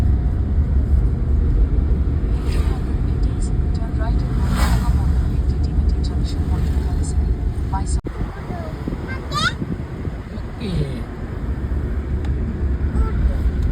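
Road noise from a moving vehicle overtaking on a highway between Wayanad and Kasaragod, a loud steady rumble with wind buffeting and brief passing swells, with a voice talking over it.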